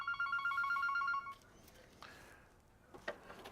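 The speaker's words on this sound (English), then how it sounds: "Someone answer that phone." A telephone rings in a steady electronic trill for over a second and then stops, followed by faint room noise and a couple of soft knocks.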